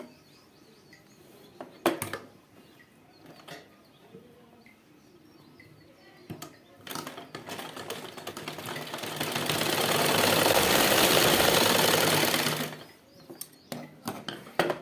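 A sewing machine stitches a pocket onto a ladies' trouser, with a few short whirring bursts and then a longer, louder run of fast stitching in a quiet room with small handling clicks.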